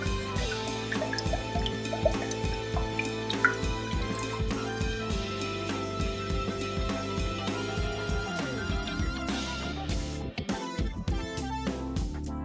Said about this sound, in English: Old oil drains from the sump, dark and thick.